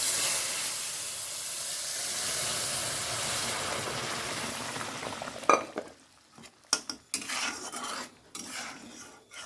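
Dal tipped into a hot pan of cumin and chili tempering: a steady loud sizzle and steam hiss fills the first seconds, then fades into sparse stirring clinks and scrapes of a utensil against the pan.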